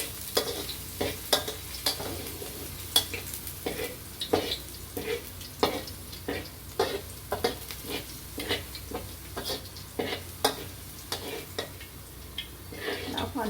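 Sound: garlic frying in hot oil

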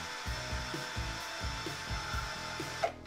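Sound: sanding an airbrush needle on green Kovacs sandpaper

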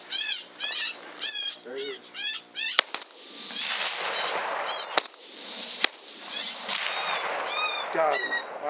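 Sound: rifle gunshot at a coyote from 200 yards

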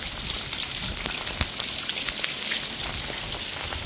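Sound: hail and snow falling outside

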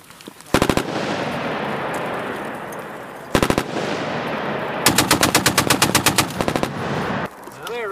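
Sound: machine gun firing during U.S. Army training

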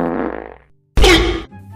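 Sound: fart

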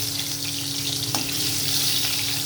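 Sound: potatoes frying in oil

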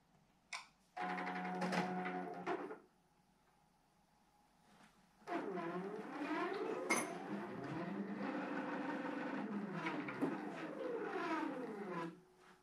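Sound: Q'nique 21X Elite quilting machine sewing

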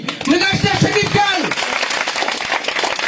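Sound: applause at a birthday celebration

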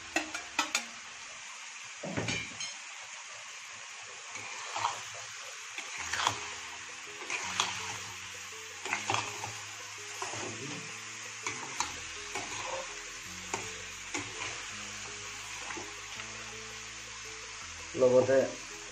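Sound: chopped onions frying in pork fat in a pan

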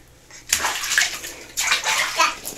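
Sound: child splashing water in bathtub

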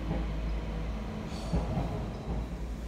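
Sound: Transport for Wales Class 197 DMU train passing

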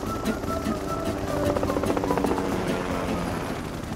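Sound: aircraft flying, cartoon school plane

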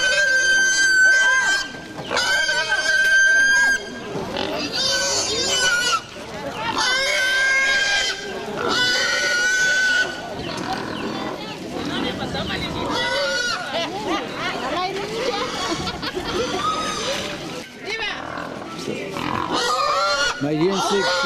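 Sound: pigs squealing at a market in Madagascar

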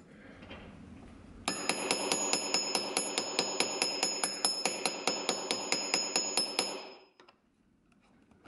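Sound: hammer peening down a snipped rivet on leather pouch

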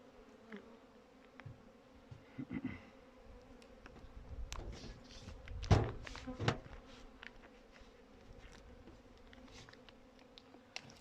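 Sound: honeybees in a hive during winter feeding

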